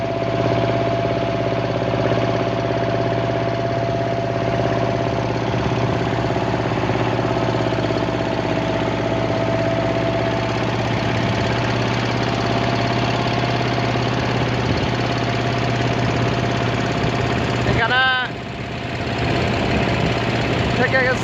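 A boat engine runs steadily with a loud, even chugging drone that continues throughout, briefly warbling near the end, at Patenga beach with ships at anchor.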